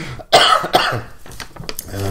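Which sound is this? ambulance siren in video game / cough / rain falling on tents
cough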